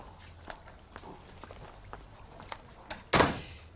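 Footsteps shuffle across an office floor, then a door swings shut with a single solid thud near the end.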